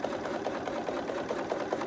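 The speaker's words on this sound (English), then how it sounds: "I am going to back stitch on this one." A sewing machine back stitches a seam on a homemade crossbody bag, running as a steady, fast mechanical whir with even needle rhythm throughout, close and moderately loud with no talking.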